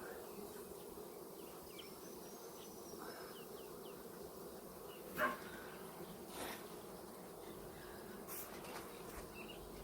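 Honeybees hum steadily in a hive being gently smoked, a continuous low buzzing drone with a few faint knocks and clicks over it.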